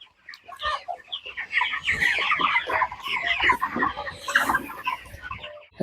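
A crowd of chickens clucks loudly and continuously, many overlapping calls close by with no pauses.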